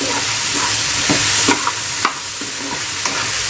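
Okra is stirred with salt and coriander powder in a sizzling pan, with scrapes and taps of the spoon sounding over a constant close frying hiss.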